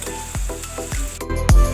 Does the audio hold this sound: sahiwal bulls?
no